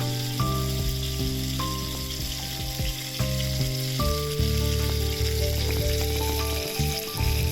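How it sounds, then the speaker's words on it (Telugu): Curry leaves fry in hot oil with turmeric and asafoetida for a tempering for cucumber pachadi, giving a steady, loud sizzle that runs throughout, with sustained tonal sounds layered over it. "కరివేపాకు రెబ్బలు కూడా వేసుకొని వేయించుకోండి"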